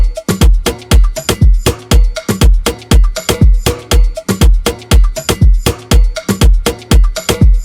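A loud, punchy Afro house beat of repeating drum hits with layered percussion loops, a tight steady rhythm of kicks and snappy strikes looping without pause.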